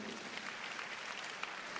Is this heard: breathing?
no